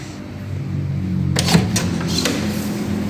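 A bathroom door in a villa in Cisarua, Puncak swings open with a few short clicks and a soft creak over a low steady room hum.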